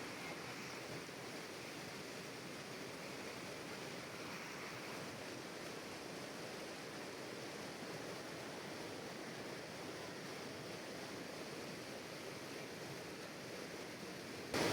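Steady rushing water flows through forest near Agusais Falls in Sitio Alangilan, Malitbog, Bukidnon, a continuous broadband roar that holds level throughout with no voices.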